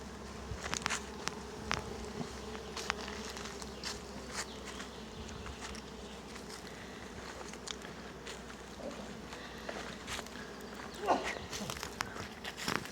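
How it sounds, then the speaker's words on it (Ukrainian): Honeybees buzzing at a mobile apiary in a forest near Torchyn, Volyn region, a continuous soft hum with individual bees passing close, faint footsteps and rustling around. "Оце наші пчілки працюють."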